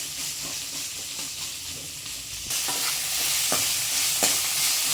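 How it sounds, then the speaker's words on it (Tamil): Okra sautés in a pan for a coconut-free tamarind curry, with a steady sizzle that grows louder partway through and a few sharp scrapes of stirring. "இதுவும் அதே போல் நம்மளுக்கு சாஃப்டாக வர அளவுக்கு வதக்கி எடுத்துக்கினா போதும்"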